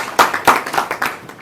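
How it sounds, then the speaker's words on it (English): An audience at a university ceremony marking an Estonia–Kenya agreement claps for the deans: a short, uneven patter of hand claps at close range, with no talk over it. "You saw the deans, clap for the deans"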